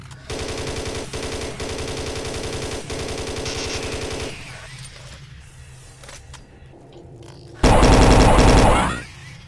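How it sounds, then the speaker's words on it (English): Imps firing chain guns in a modded Doom 3, a rapid, steady rattle of automatic fire layered with mechanical whirring that stops partway, then a loud, heavy burst erupts close by near the end. "Why did imps suddenly become chain guns?"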